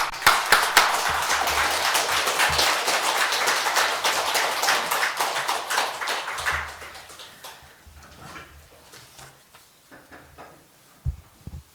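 A church congregation applauds in welcome: a thick, loud wash of clapping that carries on for several seconds, then thins and fades into a quiet room with a few scattered sounds.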